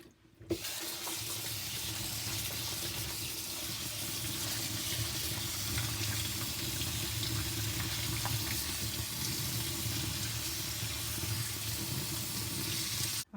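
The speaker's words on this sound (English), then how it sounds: "Drain off the water." Water drains off green papaya in a kitchen sink, a steady close rush of running water that holds at an even level from start to finish.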